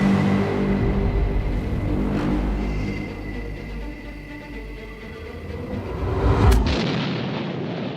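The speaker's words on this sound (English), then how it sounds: "The Ukrainian tank waits for the right moment and fires, a direct hit on the Russian tank." Ukrainian tank cannon firing on the battlefield in war footage, a continuous heavy low rumble with a sharp loud blast near the end, no voices.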